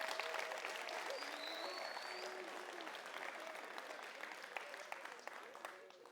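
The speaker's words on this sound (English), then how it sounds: "give Raul a round of applause" A room full of people applauds Raul, a steady wash of clapping that holds for about six seconds at a moderate level, with faint voices mixed in and a gradual fade toward the end.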